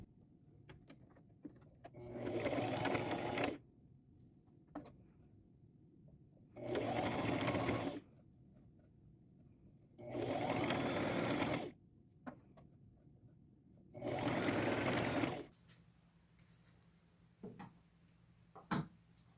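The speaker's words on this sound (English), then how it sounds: "I will just pleat and sew until I get all the way back around." A sewing machine stitches a zigzag seam on lace fabric in four loud, evenly spaced runs of rapid mechanical whirring, each lasting about a second and a half, separated by quiet pauses with faint handling clicks.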